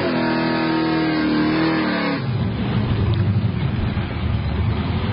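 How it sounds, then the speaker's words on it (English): A powerful supercharged or turbocharged drag racing car engine roars loudly, a steady high-pitched whine giving way to a rough, rumbling burble. "Sounds like a big old Procharger or turbocharged monster."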